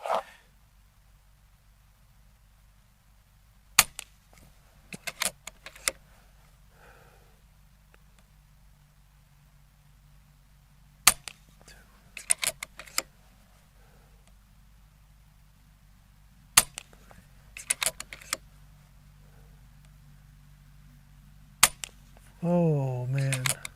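An FX Dreamline air rifle firing heavy H&N slugs gives sharp single cracks at intervals, some in quick pairs or small clusters, with quiet stretches between shots. Brief voices come in near the end.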